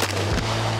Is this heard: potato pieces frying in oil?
no